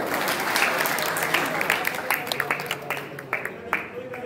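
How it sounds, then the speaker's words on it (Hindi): Audience applause at a Congress party election gathering in India, a dense burst of clapping that thins over a few seconds into scattered, separate claps. "कितनी अच्छी बात है, तालियां बजाएं।"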